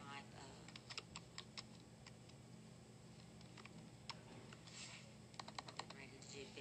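Quiet computer keyboard typing in short irregular bursts of soft clicks over a steady low background hum, with a pause in the middle before a denser run of keystrokes near the end.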